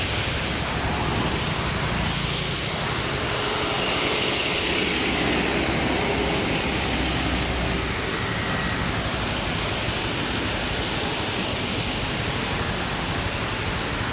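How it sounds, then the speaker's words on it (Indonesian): A large Hino trailer truck rolls past on an Indonesian road, a loud, steady broadband roar of engine and tyres that swells slightly midway and fills the whole stretch with no voices over it. "Wih, truk gandeng nih."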